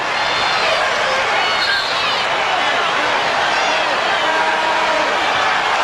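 Home crowd of Jazz fans in a basketball arena in Utah during a playoff game against Seattle, a constant loud wash of cheering and roaring noise that barely dips across the whole stretch.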